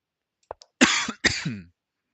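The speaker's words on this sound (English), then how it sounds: "apologies for the coughing again" A person coughs a few times: a couple of small throat catches, then two harsh, close coughs in quick succession.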